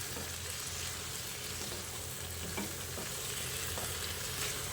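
Fried potatoes with spices stir-fried in a pan for Bengali aloo dum give a steady, soft sizzle and crackle, with faint scraping as they are stirred and no voices.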